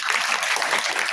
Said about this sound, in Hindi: अरे ताली बजा दो